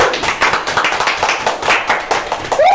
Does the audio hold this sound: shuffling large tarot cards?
no